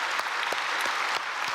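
Church congregation applauding together during a Sunday worship service, a steady wash of many hands clapping that fills the whole clip at moderate level, with no talking.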